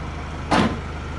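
A Mercedes-Benz E220d AMG-line from 2016 has its trunk lid shut with one short, solid thud at close range, standing out briefly above a low steady background hum.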